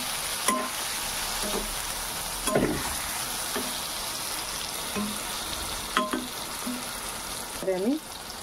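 White eggplant pieces, salted and sprinkled with turmeric, go into hot oil for a Bengali winter dish and fry with a steady broadband sizzle, broken by a few sharp clatters of stirring and soft speech-like bursts.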